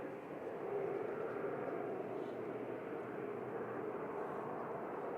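Embraer E190 airliner departing Manchester Airport for Lisbon, a steady broad jet roar heard from a distance, even and sustained throughout with no talking.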